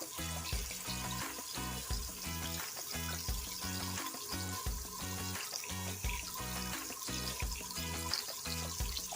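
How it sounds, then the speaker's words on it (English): Cold tap water runs steadily into a container in a kitchen sink, a continuous close splashing stream with a rhythmic gurgle throughout and no talking. "I'm filling it up right with cold water."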